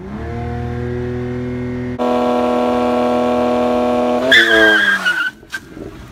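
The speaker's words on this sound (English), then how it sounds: "the car was ready to launch. It was in the launch control mode." A BMW 335is idles, then surges as it launches hard in launch control mode, revs climbing sharply before tires squeal briefly and the sound cuts away.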